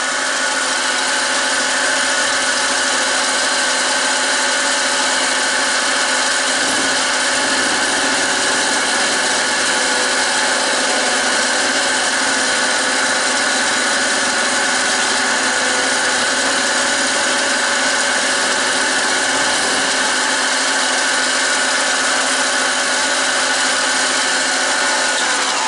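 A mini lathe making a cross cut runs with a loud, steady mechanical whir and hum, continuous and unchanging for the whole stretch with no voices.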